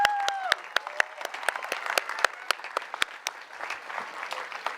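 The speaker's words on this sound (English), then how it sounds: "a big round of applause, please." At a school graduation ceremony, a crowd bursts into sustained applause with sharp scattered claps and a few whoops at the start, then tapers off over several seconds.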